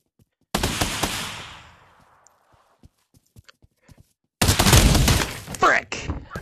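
Gunfire in the VR shooter Pavlov during a search and destroy round with a sniper involved: a loud burst of shots with a long decaying echo, scattered faint clicks, then another loud, dense volley.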